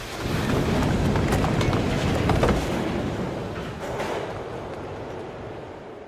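A train in the video game Tony Hawk's Underground rumbles steadily with rhythmic clattering, loud at first and gradually easing off as it moves away.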